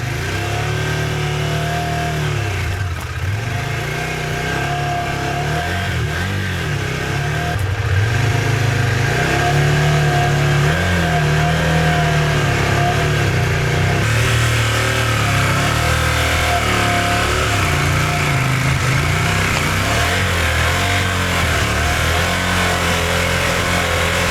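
A small motorcycle engine keeps running steadily with the clutch let out, on a trip in the Agrafa mountains. It holds a continuous mid-pitched drone for the whole stretch, fairly loud and close, with some rising and falling in revs and no talk.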